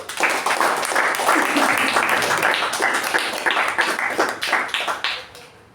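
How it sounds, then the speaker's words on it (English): A modest meeting audience claps in a round of applause, individual claps distinct and near, building briefly then thinning out and fading to quiet at the end. "Let's give her a round of applause"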